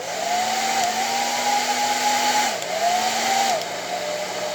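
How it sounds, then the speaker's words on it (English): A hair dryer on low heat runs steadily with a whirring motor hum and airy rush, its pitch dipping briefly twice, no voices. "Let's go ahead and turn on the hair dryer. We're going to put it on low heat."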